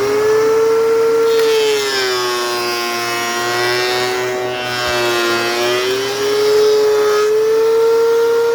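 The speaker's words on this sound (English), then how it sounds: "Now I'm going to throw it to the planer. It might be kind of loud" A steady mechanical whine from a wood planer runs continuously and loudly on charcuterie board wood, with a droning hum underneath and slight shifts in pitch as it works.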